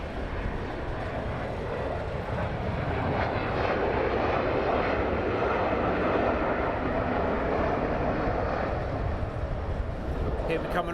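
A Learjet comes in to land at London Luton Airport in a crosswind, its engines giving a loud, steady jet roar that holds throughout with no break.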